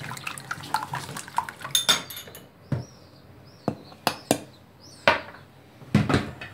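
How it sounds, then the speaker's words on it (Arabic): Eggs and other ingredients for a family-size chocolate cake are stirred in a bowl, giving a series of sharp clinks and taps of a utensil against the bowl at irregular intervals, close by, with no voices. "غنحركهم"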